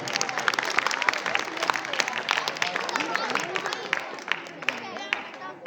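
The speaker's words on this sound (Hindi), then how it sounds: "एक बार जोरदार ताली" Loud applause from an audience at a school annual function, dense crowd clapping continuing steadily throughout with a low murmur of voices underneath.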